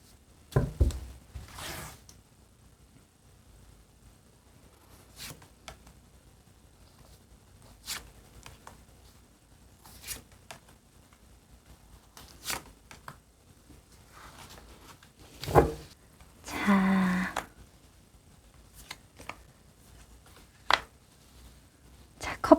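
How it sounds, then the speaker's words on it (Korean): Tarot cards drawn and shuffled at a reading table, giving sparse soft rustles, flicks and taps with long quiet gaps between them, and one longer shuffling burst near the end. "카드 좀 더 뽑아볼게요"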